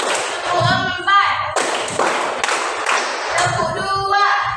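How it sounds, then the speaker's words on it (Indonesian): Children clap their hands in rhythm during a counting clapping game, sharp claps landing in quick bursts over a roomful of young voices chanting and talking. "tepuk lima, iya, tepuk dua, tepuk satu, tepuk tiga, tepuk empat"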